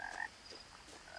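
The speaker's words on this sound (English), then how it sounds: "There are frogs everywhere." Frogs croak around a pond in the video game What Remains of Edith Finch, a few short, quiet croaking calls over soft ambient night sound.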